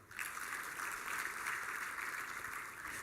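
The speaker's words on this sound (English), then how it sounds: "The support team, the doctors, the nurses, they deserve a special hand clap as well" Audience applause at a plenary session of a digital trade forum, a steady wash of many hands clapping heard from a distance, fairly faint and sustained throughout.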